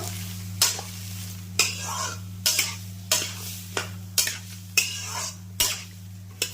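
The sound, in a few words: stirring turmeric and mustard paste in a pan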